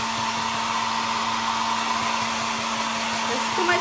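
A hair dryer blows steadily and loudly up close, drying paint on a snowman painting, a constant whooshing hum with a low motor tone throughout.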